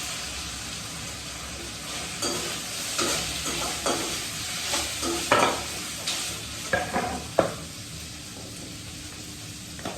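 Vegetables sizzle and fry in hot oil while a utensil stirs and scrapes the pan in uneven bursts, close and fairly loud.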